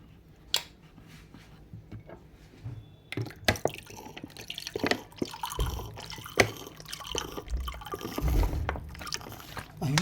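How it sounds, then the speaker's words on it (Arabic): Half a cup of vinegar poured onto lemon juice in a kitchen, heard as a close trickling, splashing pour of liquid after a few quiet clicks and knocks, no voice. "ناخد بقى عليهم نص كوباية خل"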